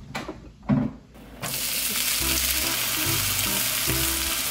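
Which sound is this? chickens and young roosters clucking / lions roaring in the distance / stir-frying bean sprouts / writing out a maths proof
stir-frying bean sprouts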